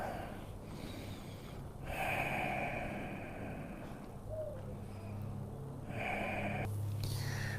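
Slow, faint breaths with audible nasal exhales repeat in a relaxed rhythm during a quiet yoga class, with no talking.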